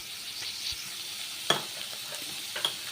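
Ginger garlic paste frying in a pan while cooking palak aloo rice, a soft steady sizzle with faint stirring scrapes and a couple of sharp metallic clicks from the utensil against the pan.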